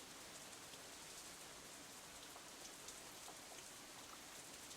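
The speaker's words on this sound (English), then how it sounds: "Raindrops hitting the umbrella make a distinctive sound, playing the staccato melody of rainfall for nobody in particular." Rain falls steadily on an umbrella in a visual novel game scene, a soft, even hiss of many fine drops that stays constant throughout, quiet and with no voices.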